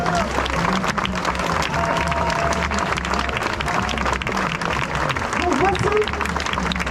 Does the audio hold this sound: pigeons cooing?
no